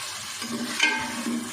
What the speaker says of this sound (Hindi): तो इसको हम अच्छे से प्याज और अदरक लहसुन के साथ भुनाई कर लेते हैं।